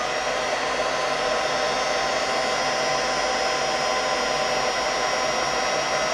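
A heat gun blows steadily while it warms a stuck wooden rubber stamp: a constant, loud, close whooshing roar with no change in pitch and no voices.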